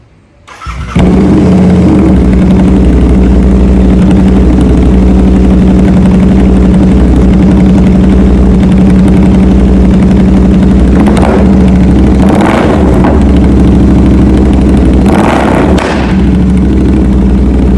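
Tuned motorcycle-type engine idling loud and steady up close after a quick start-up, with a few revs and throttle blips near the end and no talk.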